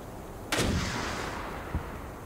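A single RPG-7 rocket launcher shot in the online shooter game Stay Out, heard as a sharp, loud blast with a rushing tail, followed about a second later by a duller distant thump.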